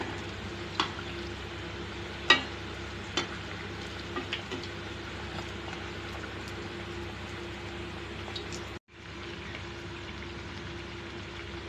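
Crispy banana flower vadai fritters fry in hot oil with a steady, close sizzle and a few sharp pops, then go briefly quiet before the bubbling resumes.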